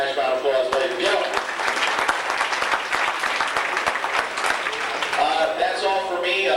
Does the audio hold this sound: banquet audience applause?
yes